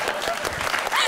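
A studio audience claps in a steady wash of applause, loud and continuous throughout, with a voice faintly mixed in beneath it.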